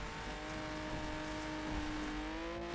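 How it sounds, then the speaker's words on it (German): A car engine in the racing video game The Crew holds a strong, sustained revving drone with rising harmonic tones, loud and continuous throughout. "Gib mal ein bisschen Gas"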